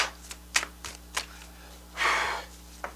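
Tarot cards being shuffled at a reading table, with a few sharp riffles and snaps followed by one longer soft shuffling rush, close and fairly quiet with no speech.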